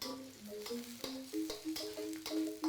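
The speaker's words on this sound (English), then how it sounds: "So I cook it the shallot until soft." Shallots and garlic frying in a pan for kangkung tauco, a soft steady sizzle with light tapping and stirring clicks, fairly quiet and close, with no talking.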